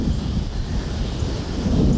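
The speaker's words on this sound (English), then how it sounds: "It's starting to rain a little bit. There's lightning right back there." Thunder rolls through an outdoor rainstorm as a steady, loud low rumble, with rain and wind noise filling the background and swelling slightly toward the end.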